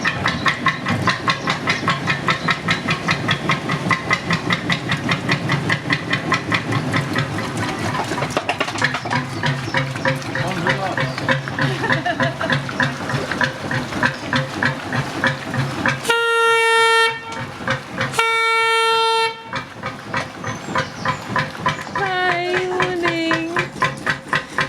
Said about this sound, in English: leaving the boatyard today is old working boat Swan, built in 1933